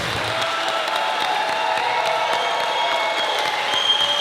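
Event audience claps and cheers, a sustained, even crowd roar with occasional whoops mixed in, held at a steady level throughout.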